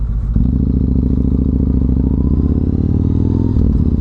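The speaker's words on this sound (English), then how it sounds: "I can definitely hear that beautiful rumble of your bike as we go." A petrol V-twin motorcycle rumbling while riding, a loud, deep, steady throbbing engine note close up with some clatter, holding a constant pace throughout.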